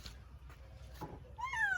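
A one-year-old cat outdoors on bare ground for the first time gives a short, faint meow, a rising and falling cry near the end after some soft rustling; no talking.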